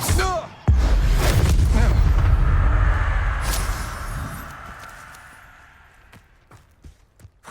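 A fiery Incendio spell blast erupts in a sudden loud boom that rolls on as a long roaring rumble, slowly fading over several seconds, with faint thumps trailing at the end.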